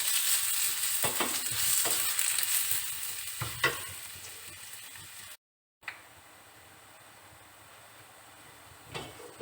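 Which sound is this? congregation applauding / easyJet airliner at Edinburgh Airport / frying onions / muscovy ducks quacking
frying onions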